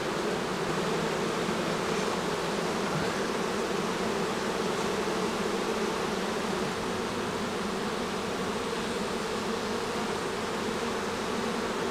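Honeybees buzz steadily inside an open hive box, a dense, continuous hum heard close up for the whole stretch with no voices over it.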